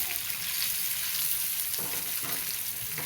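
Fish frying in hot oil in a pan hisses steadily and evenly, with a couple of soft bumps as the pieces are turned. No one speaks.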